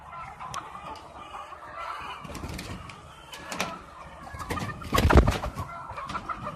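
Chickens on a chicken farm cluck in scattered bursts, with a few sharper squawks rising above the flock, at moderate distance.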